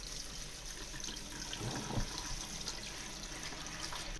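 Water runs steadily from a tap over leeks in a fine mesh sieve, a close, even rushing splash with slight changes as the leeks are moved about.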